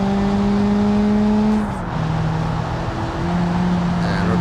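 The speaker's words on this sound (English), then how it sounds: "It seems like it's got like a Honda engine, maybe. Sounds a bit like a Honda." Honda-like engine in a front-wheel-drive car in BeamNG Drive, a loud, steady droning hum that shifts pitch as the revs change, with tire and road noise underneath.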